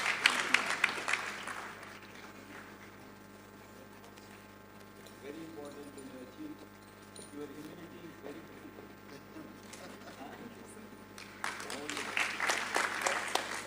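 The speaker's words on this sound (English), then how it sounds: "A very big round of applause once again, ladies and gentlemen." A convocation audience bursts into clapping, fades to quieter room sound with faint speech in the middle, then applauds again more loudly near the end.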